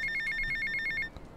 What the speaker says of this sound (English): the phone call sound isn't slow motion